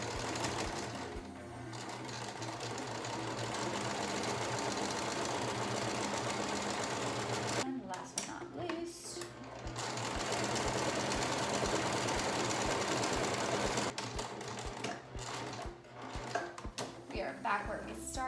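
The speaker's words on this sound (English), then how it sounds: "back stitch at the start and the end of your sewing" Sewing machine stitching a medical face mask, rapid close mechanical chatter running in two long bursts with a brief pause and handling noise between them.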